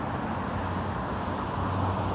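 Steady road traffic noise from passing cars forms a continuous broadband roar, fairly close and uniform, with no voices over it.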